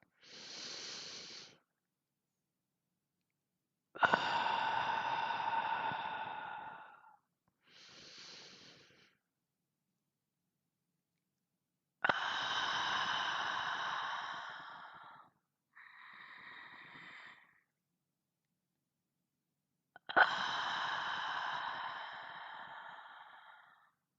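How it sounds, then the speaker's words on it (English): Several deep breaths drawn in and released in a slow group rhythm, each airy inhale and long sighing exhale standing alone in quiet, with clear pauses between them. "We'll take 3 deep breaths together."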